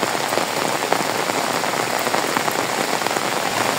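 Heavy rain pours steadily on a surface, a dense, continuous hiss with scattered drop impacts and no pauses.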